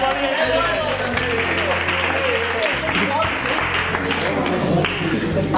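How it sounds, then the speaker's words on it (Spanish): Church congregation applauding during a Spanish-language service, a steady dense wash of clapping sustained for several seconds with voices mixed in. "Fuerte aplauso para ellos."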